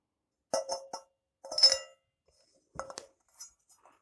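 A drum kit cymbal is picked up and handled during assembly of an acoustic drum set, giving a few faint, close metallic clinks and rattles separated by near silence.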